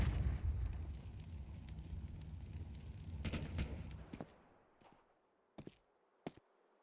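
A grenade in the video game Counter-Strike detonates with a loud, rumbling blast that fades out, followed by a few sharp isolated shots in the quiet afterward.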